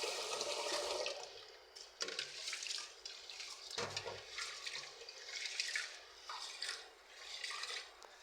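Rice being rinsed by hand in water, swishing and sloshing in uneven bursts with splashes and trickles between, fairly quiet and close, no talking.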